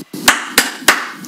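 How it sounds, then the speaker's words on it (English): Three sharp hand claps land evenly about a third of a second apart, close and loud, recorded through a GoPro in a waterproof case. "You just clap 3 times"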